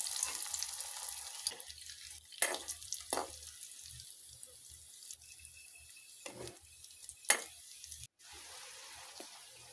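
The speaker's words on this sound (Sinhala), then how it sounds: "අඩු ගින්දරේ මේ වඩේ ටික බෙද ගන්න ඕනි" Parippu vade, lentil fritters, fry on low heat in oil with a soft, steady bubbling hiss, broken by a few louder splashes and clatters nearby; quiet overall, with no voices.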